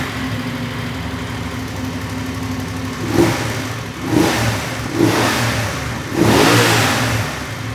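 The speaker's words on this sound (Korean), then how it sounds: "270도 점화 간격을 가지고 있기 때문에 엔진이 조금 더 그르렁 하는 느낌이 나고" A parallel-twin motorcycle engine with a 270-degree firing interval, ridden at the 2020 GS Trophy, idles with a lumpy rumble and is blipped four times, each rev swelling loudly and close before dropping back to idle.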